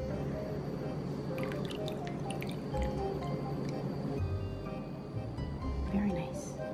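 Filtered water is poured into a homemade snail habitat, a soft, steady trickle with small drips and wet squishing against soil, continuing close up throughout.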